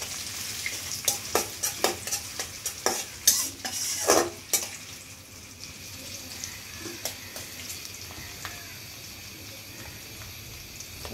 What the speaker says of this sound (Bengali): দিয়ে দিলাম পেঁয়াজ কুচি, পেঁয়াজ কুচি ভেজে নিই।